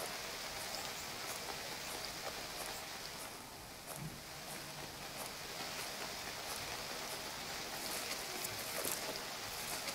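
Constant soft hiss of rain falling in the video game UnReal World, even and unbroken, with faint patters throughout and no voices.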